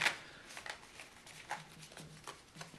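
Tarot cards being collected and shuffled on a table, quiet riffling and soft slaps in a few short bursts, close and faint, with no speech.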